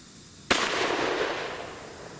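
A 10mm Auto pistol with a 3.8 inch barrel fires a single loud shot of 220 grain Underwood hard cast ammunition. The sharp crack rings out over a long, fading echo.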